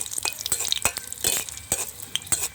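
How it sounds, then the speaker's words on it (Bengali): Dried red chillies frying in oil in a wok, with a soft, steady sizzle broken by a quick run of sharp spatula scrapes and clinks against the metal. No one speaks. "আস্তে আস্তে করে শুকনো মরিচগুলি লাল লাল করে ভেজে নেব"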